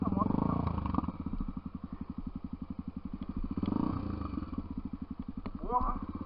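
Enduro dirt bike chugging along a small forest trail in Macacos, its engine pulsing steadily with brief revving surges and loose clatter, while people talk over it.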